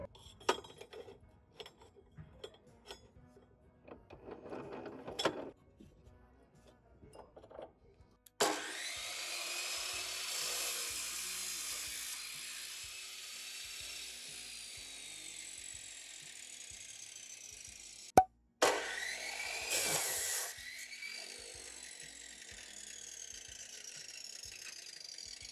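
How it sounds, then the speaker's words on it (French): A miter saw cuts metal rings, a loud sustained high-pitched whine that runs for about ten seconds, then stops briefly and starts again, after scattered light clicks and handling knocks. "je vais utiliser ma scie à onglet pour pouvoir les couper proprement"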